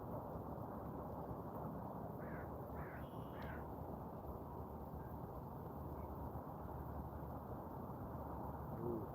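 Steady rain pattering onto a water surface outdoors, a dense, even hiss that holds constant throughout with no breaks, close and moderately loud.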